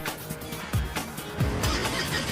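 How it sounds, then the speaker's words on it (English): A Harley-Davidson motorcycle engine revs hard on a rolling road test rig inside a closed room, loud and close, with repeated rising and falling throttle sweeps over a rough, steady roar. "they open up the throttle and let rip in a closed room"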